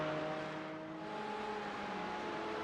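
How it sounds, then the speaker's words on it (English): A Porsche GT car in the iRacing sim held at the edge of grip through the Mid-Ohio corners, its engine droning steadily with a sustained whirring, loud and close, without voices. "You can hear the tires working overtime to keep that Porsche"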